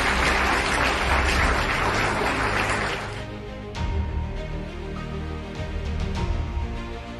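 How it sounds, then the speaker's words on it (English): A stage workshop audience breaks into a round of applause to welcome a speaker: dense, steady clapping fills the first three seconds, then drops to a quieter background. "with a huge round of applause"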